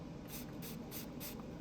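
Four quick hissing bursts of Knife Shield rust-protectant spray fired into a microfiber cloth, each short puff evenly spaced and close, with no talking.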